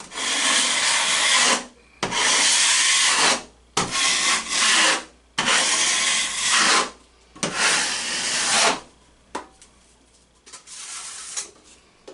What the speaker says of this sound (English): I'm going to apply a third thin coat of all-purpose joint compound, and I'm going to spread this a couple inches past the second coat